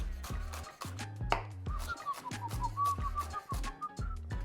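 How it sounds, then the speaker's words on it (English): A knife chops aromatic greens into small slices for a ground beef dumpling filling, sharp steady strokes against a board repeating about every third of a second, under music with a whistled melody. "making small slices here that we will add to our ground beef"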